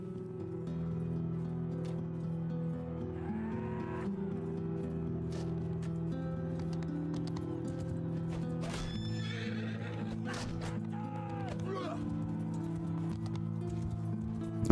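Horses in the Mount & Blade II Bannerlord video game, with loud whinnies and neighs over a steady low game backdrop of hoofbeats and ambience, heard close with no talk.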